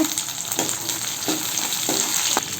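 Small onions sauté in oil for kara kuzhambu with a steady, bright sizzle, broken by a few soft, periodic scrapes of stirring.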